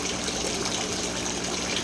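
A water pump draws water through a homemade venturi fitted to add dissolved oxygen to a tilapia tank, giving a steady, close hissing gush of rushing water with no voices.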